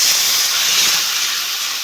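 Water poured into a frying spice paste of Kashmiri chilli and salt for a potato, carrot and cauliflower curry gives a loud, steady steam hiss that fills the whole brief moment.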